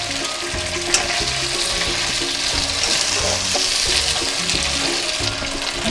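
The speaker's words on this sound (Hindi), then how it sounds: "प्याज के साथ श्रिम्प को फ्राई करते हैं ना तो श्रिम्प सख्त नहीं हो जाती है" Jumbo shrimp fry with onions in a pan, giving a steady, loud, dense sizzle that runs throughout with faint stirring.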